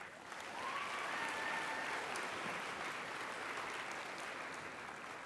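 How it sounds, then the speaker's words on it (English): A round of applause for cosplayers at a convention cosplay competition, sustained clapping from an audience that swells quickly and holds steady for several seconds, heard from within the hall. "So a round of applause for these guys"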